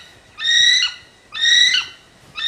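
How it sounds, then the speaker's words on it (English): A kiwi calls in a series of shrill, whistled notes, each about half a second long, repeated in a steady rhythm and clear against a quiet background. "If you heard its call, you would hear a kiwi sound"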